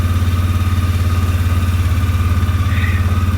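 A Polaris snow plow engine idles on a cold day just after starting, a loud, close, steady rhythmic chug with a low throb and no voices.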